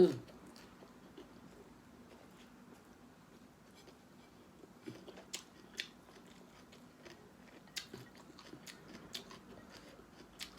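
Close, soft chewing of salt-grilled tilapia flesh, with quiet moist bites and occasional sharper clicks at an uneven pace against a low background hum.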